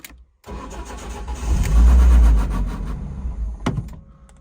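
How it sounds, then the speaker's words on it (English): A BMW drift car project with a hole in the intake cranks briefly, then fires into a loud rumbling start that swells and settles toward a rough idle, heard close with no talk. "to start the car up"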